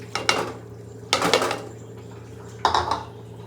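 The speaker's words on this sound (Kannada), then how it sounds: "ನೆನೆಸಿರೋ ಬೇಳೆ ಮತ್ತೆ ಅಕ್ಕಿ ಹಾಕೋತಾ ಇದ್ದೀನಿ" Three short bursts of grainy rattling as soaked lentils and rice are poured into a pressure cooker, separated by pauses over a low steady hum.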